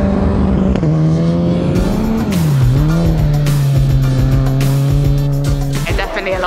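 An electric race car at the Race of Champions in Sweden accelerates hard with a loud, steady motor whine that rises and dips as the tires squeal, close and continuous throughout.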